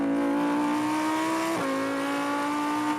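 A Lamborghini Huracan Performante's V10 engine and exhaust rev hard and loud, the steady rising howl dropping briefly mid-clip before climbing again close by.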